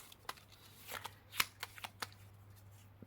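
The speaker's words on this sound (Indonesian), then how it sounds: "saat Cece shuffle kartunya" Tarot cards are shuffled close up in a quiet room, with a string of crisp, irregular riffling snaps and slaps, one sharper than the rest.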